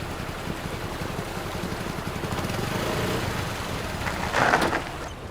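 A motorbike engine runs steadily with a rough, pulsing low putter, growing slightly louder toward the end before a brief brighter burst of noise.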